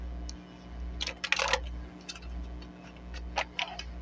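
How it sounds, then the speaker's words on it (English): Tarot cards riffle and snap in quick, papery bursts, a close shuffle with short gaps between flurries over a low background hum. "And do a couple more shuffles."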